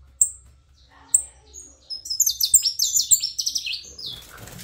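A saffron finch in a new cage gives a few sharp chirps and then a quick, bright trilling song phrase, near and clear in an otherwise quiet room.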